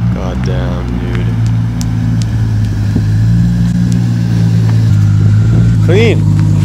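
Nissan G35 with a swapped Toyota 1JZ engine and HKS 272 cams, idling with a deep, steady droning rumble and a light blip, close by under people talking outdoors.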